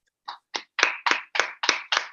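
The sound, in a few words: people clapping for presenters on an online call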